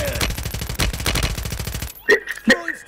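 Call of Duty gunfire: a rapid, loud automatic burst for about two seconds, then two separate sharp shots with clear gaps after it.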